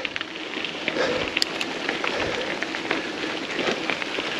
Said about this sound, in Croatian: Evo sad lagana vožnja po kiši.